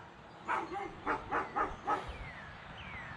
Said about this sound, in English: Got noisy neighbors, dogs.